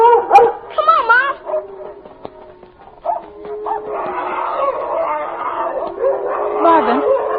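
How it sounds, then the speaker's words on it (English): Several dogs bark, yelp and howl in a scuffle, apparently a big stray dog fighting a herding dog among cattle, with excited voices talking over the commotion. "Oh, goodness, that huge dog will kill Checo"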